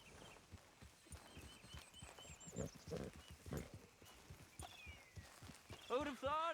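Horse hooves clip-clop at a walking pace in Red Dead Redemption 2, a steady rhythm of fairly faint, close hoofbeats while a voice speaks over them.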